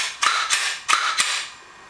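A Glock 21 pistol's slide is racked hard several times, giving sharp, close metallic clacks in quick pairs over a quiet background.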